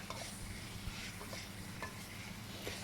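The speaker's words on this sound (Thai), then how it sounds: "หลังจากเราผัดหมูเสร็จแล้วเราจะใส่กุ้งปลาหมึกไปนะคะ ผัดคลุกเขาให้เข้ากัน" Shrimp and squid are stir-fried with pork in a wok, giving a steady quiet sizzle with scraping stir strokes every second or so, close up and without talk.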